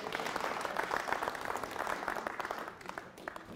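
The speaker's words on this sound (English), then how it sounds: "So I want to have everybody right now give Carl a round of applause" An audience at a talk on early-day skiing around Crested Butte claps for an honoree, a lively round of applause with distinct individual claps that continues steadily throughout.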